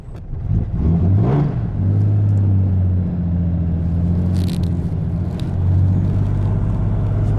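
A 1964 Ford engine runs at a high idle for its first drive after upgrades, with a cold choke and a poor clutch. It gives a steady, loud, close low hum and rumble with a brief rise early on, and no voices.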